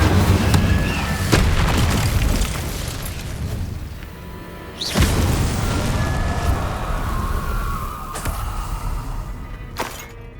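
Incendio fire spell cast in Hogwarts Legacy, a loud rumbling fiery blast with sharp bursts and a sustained roaring rush behind them, no talk.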